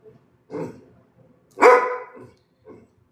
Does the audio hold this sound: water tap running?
no